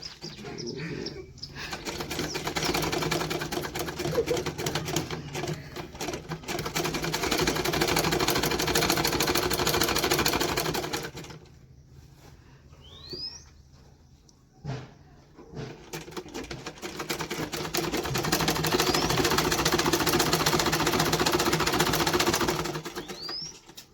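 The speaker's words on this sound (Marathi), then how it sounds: "आमचे बाबा ड्रेस शिवत आहे" A sewing machine stitches a dress at home, giving a continuous quiet mechanical whirr with rapid ticking that pauses briefly midway before running again.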